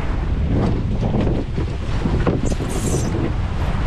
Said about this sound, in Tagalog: Ang bilis lumamig at malakas ang hangin dito sa laot.